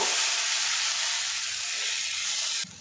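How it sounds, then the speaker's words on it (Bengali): Steady, loud sizzling of vegetables frying in a pan, a continuous hiss that drops off abruptly near the end. "গাজর আর আলুটা একদম ভাজা ভাজা করে নেব"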